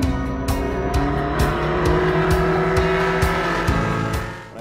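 Ferrari 458 Challenge race car on track, its engine screaming at high revs with rapid upshifts marked by crisp gearchange cuts, loud and close as it accelerates hard, easing slightly at the end, no voices.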